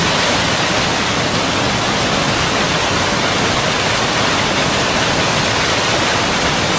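River water rushes in a dense, unbroken roar beside someone washing shoes on a riverbank in Arunachal Pradesh, loud and close with no speech.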